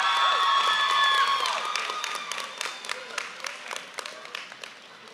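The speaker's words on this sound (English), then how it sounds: "Give them a round of applause." Applause at a graduation commencement ceremony, starting with loud cheers and whoops over the clapping, then thinning into scattered, fading claps from a sizable audience.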